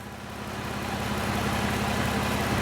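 A 2013 Ram 1500 4x4 pickup with a 3.6 engine idling nearby, a steady low rumble with a regular throbbing pulse and no change in speed.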